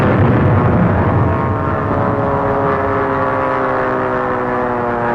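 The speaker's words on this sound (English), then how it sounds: "The big show was the bombing of the battleship Ostfriesland." Bombs burst against the battleship Ostfriesland in an old aerial bombing test, a loud rumbling, roaring blast that decays slowly with no voices over it.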